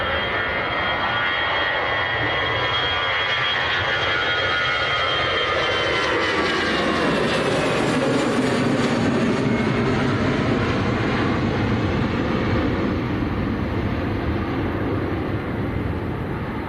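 An EasyJet airliner departs from Manchester Airport bound for Paris, a loud, sustained jet engine roar with a rushing broadband tone that builds and then holds steady throughout.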